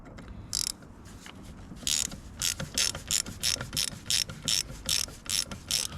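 A hand ratchet works a Torx 50 bolt on the heater changeover valve bracket of a Range Rover, giving quick, quiet runs of clicking strokes in a rhythmic series.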